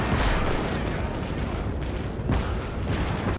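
Continuous battle din from the WWII real-time strategy game Call to Arms - Gates of Hell: Ostfront, with dense rumbling explosions and gunfire layered together, loud and unbroken, with heavier booms near the start and again midway.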